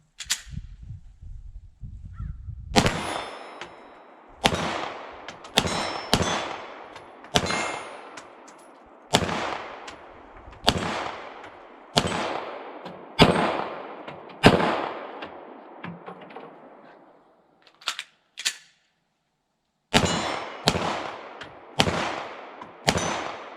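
Sig Sauer P320 X-VTAC pistol fired at steel targets about 15 yards away, a steady string of sharp, loud shots, each followed by a ringing metallic clang, with brief pauses between strings.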